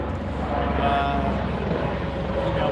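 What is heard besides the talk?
helicopter flying overhead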